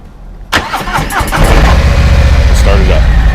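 A 2020 Harley-Davidson Low Rider S motorcycle is started up close: the starter cranks briefly, the engine catches and settles into a loud, deep, steady rumble. Someone talks over it.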